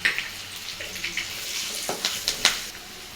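Dried red chillies and curry leaves, with turmeric added, frying in a pan for a bottle gourd stir-fry, a soft crackling sizzle with small pops and spatula scrapes, fairly close.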